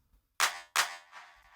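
Electronic clap sample from a drum section: two sharp, bright claps in quick succession, the second trailing into a short decaying tail.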